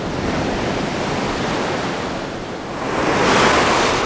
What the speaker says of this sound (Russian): Бешеные, безумные волны